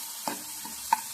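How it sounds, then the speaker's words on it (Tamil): Onion and finely chopped potato sautéing in a pan, stirred with two or three brief, quiet scrapes over a faint, low sizzle, with no talking. "அதே லேசாக வதக்கி விட்டுருங்க"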